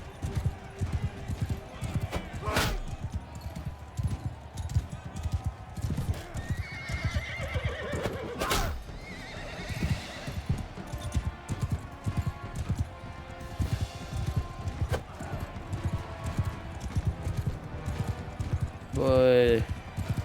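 Horses galloping in the Mount & Blade: Bannerlord video game, with a steady rapid clatter of hooves throughout, several loud neighs and whinnies, and someone talking over the action.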